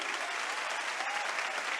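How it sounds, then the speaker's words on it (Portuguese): A church congregation breaks into dense, steady applause during a live worship service, a close wash of many hands clapping at an even level throughout. "Vamos dar um aplauso ao Senhor por isso?"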